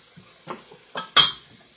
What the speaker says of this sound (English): let me add this last bit of celery now to this, and stir it around once again